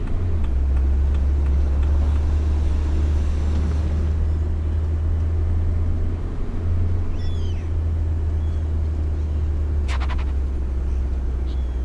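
A small bus engine in Tourist Bus Simulator runs at a steady low drone, loud and continuous with a faint higher whine, alone without talk.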